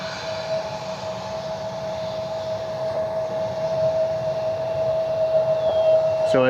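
A SkyWest CRJ regional jet rumbles at Cleveland Hopkins airport with a steady engine whine and broad roar, growing slightly louder throughout, heard from a distance outdoors.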